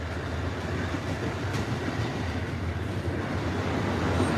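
An Amtrak California Zephyr passenger train rolls past at the station in Ottumwa, Iowa, with a steady, dense rumble and rail clatter that hold at a constant loud level the whole time, with no voices.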